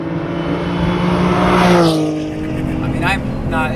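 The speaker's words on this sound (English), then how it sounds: "I've never experienced an engine with so little resistance as it gets toward redline." A Guntherwerks 400R, a restomodded Porsche 911, has its engine revved toward redline, rising in pitch with a sweeping whine heard from inside the car and then dropping away through a quick shift.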